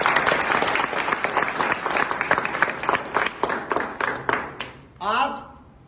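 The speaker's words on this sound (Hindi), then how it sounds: "इस गांव के लिए एक बार जोरदार तालियां होंगी।" Crowd applause at a village gathering honouring the village, with sharp individual claps audible within a busy mass of clapping that thins out before a voice speaks briefly near the end.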